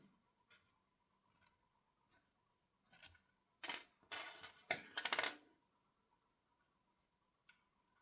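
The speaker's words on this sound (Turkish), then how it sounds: "Öncelikle 2 adet anahtarlık klipsinin buradaki zincir bağlantılarını çıkartalım." Metal keychain clips having their small chain links pried off, giving sparse light metallic clicks and ticks, then a brief cluster of louder close jingling rattles before quieting again; no talking.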